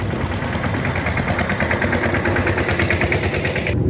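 A tractor engine chugs steadily and loudly up close with a fast, rhythmic throb, heard from on board during a ride toward a highway, with no talking.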